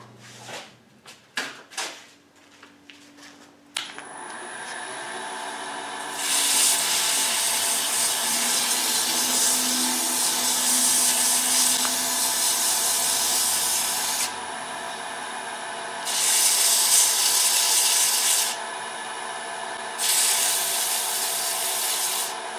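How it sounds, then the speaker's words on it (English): Abrasive rubbing against the face of a wooden mortar being turned on a lathe: a few sharp knocks, then a steady broadband hiss that swells louder in bursts as the sandpaper presses harder against the spinning wood. "we can just sand that just a little bit"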